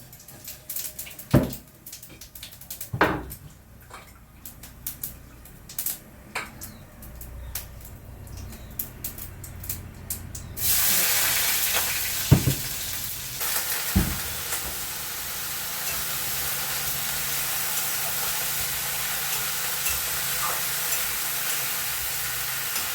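Five-spice seeds hit hot oil and break into a steady loud sizzle partway through, preceded by scattered clinks and taps of a utensil against the pan.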